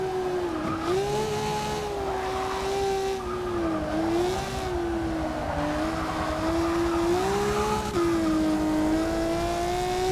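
A Ferrari 250 California race car in Forza 6 multiplayer drones with a steady, wavering engine note as the throttle eases on and off, pitch dipping and climbing in smooth sweeps with a brief upshift gap, loud and close.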